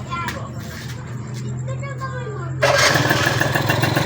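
A Suzuki motorcycle engine cranks and catches, then settles into a steady, louder idle that fills the rest of the moment, with a voice speaking over the low hum before the start.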